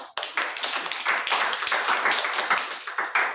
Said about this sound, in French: accueillons-la chaudement par vos applaudissements